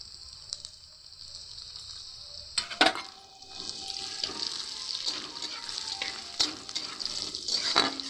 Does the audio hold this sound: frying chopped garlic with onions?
yes